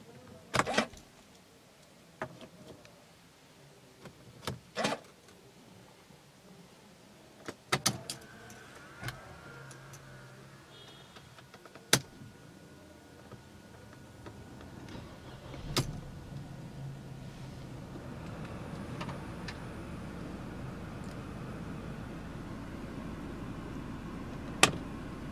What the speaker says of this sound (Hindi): चलिए गाड़ी को स्टार्ट करते हैं।